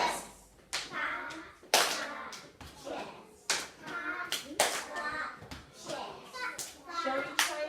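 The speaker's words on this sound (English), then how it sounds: "Pat, clap, chest. Pat, clap, chest." Children perform a body percussion pattern in a classroom, patting, clapping and tapping their chests in a repeating three-beat cycle, with sharp claps and slaps mixed among young voices chanting along.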